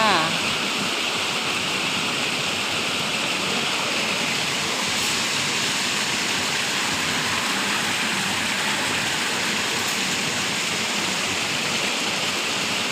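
Steady, dense rush of falling water, loud and continuous throughout, like a nearby waterfall with no pauses.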